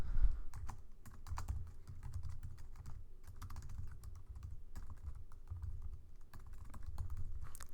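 Keys on a computer keyboard clatter in quick irregular bursts of close clicks and taps, steady typing at moderate level with no voices.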